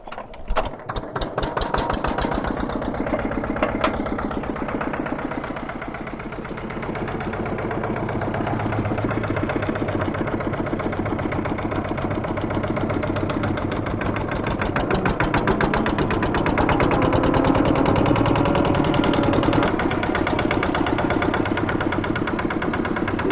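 A small engine with a winding start, likely on trenching equipment, cranks with rapid uneven chugs, then settles into a steady, loud, close idle that holds for the rest of the stretch.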